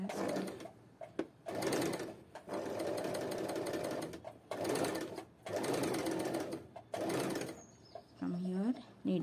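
Bursts of close sewing machine stitching on fabric for fabric art come in several long runs separated by short pauses, and a voice speaks briefly near the end.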